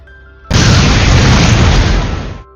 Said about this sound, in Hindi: जब ग्रीर बोट स्टार्ट करता है तो एक धमाका होता है